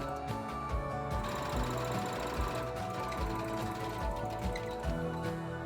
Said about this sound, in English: I recommend testing your sewing machine first, as a straight stitch works best in this area.